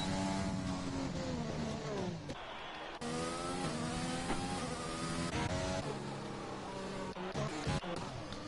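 Red Bull race cars roar through the final corner in a racing video game, engines droning and shifting pitch as they pass, a steady mechanical whine with faint commentary underneath.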